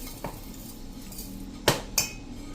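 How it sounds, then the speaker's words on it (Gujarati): Fennel seeds poured into a steel mixer jar: two sharp clinks and a short rattle, close and fairly faint, with no voices. "હવે આપણે આ વરિયાળીને પીસવાની છે, એના માટે મિક્સર જાર લેશું અને એમાં વરિયાળી નાખી દેશું"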